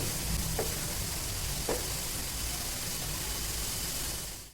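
Cabbage filling for paratha cooks in a pan over low gas, giving a steady, soft sizzle that runs unbroken for the whole stretch, with a couple of faint stirring taps near the start. No one speaks.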